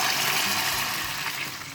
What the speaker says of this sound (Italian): aggiungiamo l'acqua